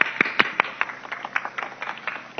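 An audience claps for contestants at a comedic quiz show, a brief scattered burst of hand claps of uneven rhythm, fairly close and with no talk over it.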